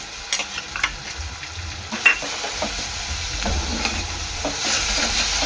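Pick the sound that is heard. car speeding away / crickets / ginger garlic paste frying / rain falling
ginger garlic paste frying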